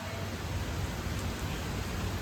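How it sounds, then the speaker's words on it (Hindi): Heavy early-morning rain pours after falling all night, a broad, steady rushing hiss without distinct drops, constant and fairly loud, no voices. "बारिश झमझम लगी हुई है, खतरनाक बारिश लगी हुई है"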